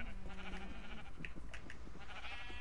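Sheep in the Minecraft video game bleat a few times, short wavering calls over a steady background hum, fairly faint and alone.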